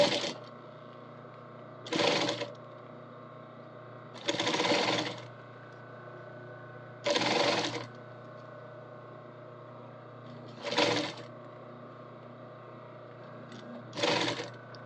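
A sewing machine top-stitches ribs into fabric, its steady running hum broken by five short, louder bursts of stitching spaced a few seconds apart, with no voices.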